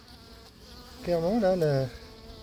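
At a beehive apiary in Crosne, bees buzz while attacking a wasp, a close wavering insect drone swelling for about a second above a low background hum.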